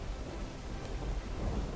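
Heavy downpour with rumbling thunder in a forested area of Visavadar, Junagadh, a steady broadband roar of rain with no voices.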